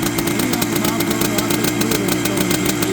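A vintage two-stroke motorcycle engine pulled from a Virginia barn, running nearby at a steady, rapid, buzzy rhythm with a raspy exhaust note throughout.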